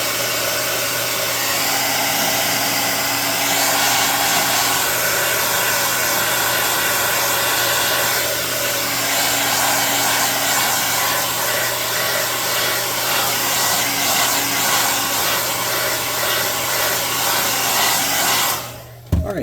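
A blow dryer runs continuously and loudly up close for nearly twenty seconds, drying clear coat on a wooden puzzle map, with a steady whooshing roar and motor hum, then shuts off at the end.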